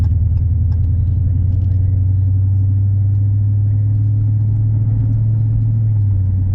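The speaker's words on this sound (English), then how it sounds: "I assume that's all factory exhaust. And it's not loud, but it's just nice sounding." Factory exhaust of a 2018 Dodge Challenger while driving, a steady, loud, low rumbling drone that holds even throughout, with no sharp revs.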